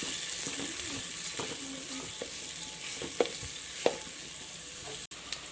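Two medium onions sautéing for zeera samba ghee rice, a steady soft sizzle in the pan with a few light stirring scrapes and clicks near the end.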